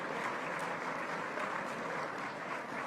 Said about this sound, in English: You need to clap for these people, these foot soldiers.